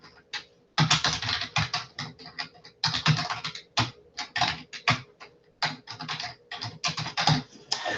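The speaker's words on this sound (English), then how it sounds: "you just type out the URL of the extension." Fingers type on a computer keyboard in close, crisp bursts of rapid key clicks separated by short pauses.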